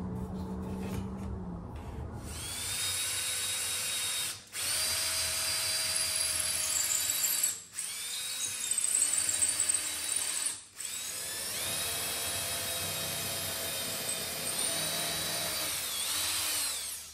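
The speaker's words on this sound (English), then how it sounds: "then drill a pilot hole" A power drill whines loudly up close as it bores a pilot hole into a busted wooden door jamb during a repair. The high, steady motor runs in several long stretches, broken by three brief pauses.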